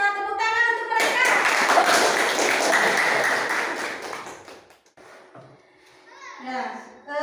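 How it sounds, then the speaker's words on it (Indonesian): A class of schoolchildren claps for their classmates, a dense, loud burst of many small hands lasting about four seconds, with children's voices and a teacher speaking before and after. "Tepuk tangan untuk mereka."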